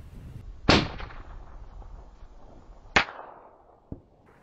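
A 30-06 rifle fires at a target about 277 yards away, two sharp loud cracks a couple of seconds apart with fading echoes, followed by a fainter third report.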